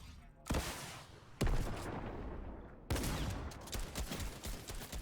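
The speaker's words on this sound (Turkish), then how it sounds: "o kadar mermi attım. Nereye gitti o mermiler?" Bursts of gunfire in the battle royale video game Fortnite, three sharp onsets followed by sustained rattling fire, loud and close, with no talk over it.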